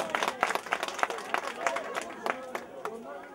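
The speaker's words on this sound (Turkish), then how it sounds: "Alkış." Wedding guests clap in a quick, uneven rhythm at a Turkish wedding ceremony, the sharp claps fairly close and mixed with the murmur of a chattering crowd.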